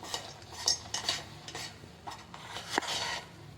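Flour being stirred into boiling water in a pot to make modak dough: close, uneven scraping and clinking of a spoon against the pot in quick strokes, with no talking.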